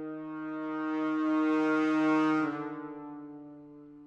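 A sustained synthesizer tone swells and fades slowly, its bright harmonics washing out into a long reverberant tail; no voices.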